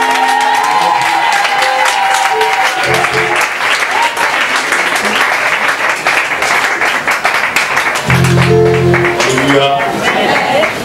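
A church congregation in Abidjan, Yopougon, bursts into sustained loud applause and cheering to welcome a prophet, with musical tones and voices mixed in throughout.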